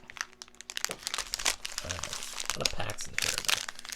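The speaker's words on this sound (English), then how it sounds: "Do a quick little rip." Trading card packs being ripped open, with crinkly foil tearing and crumpling in short bursts up close while someone talks over it.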